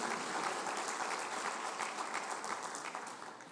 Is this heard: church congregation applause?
yes